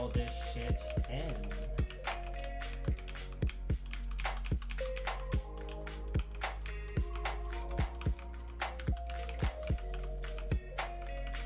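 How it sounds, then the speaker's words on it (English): Fast typing on a Corsair K70 RGB Rapid Fire keyboard with Cherry MX Red switches, with clustered key taps and sharper thocks in an irregular rhythm over a low background hum. "Y'all can probably hear my keyboard just clicking."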